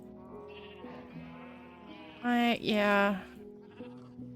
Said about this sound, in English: Okay, come here, sheepies.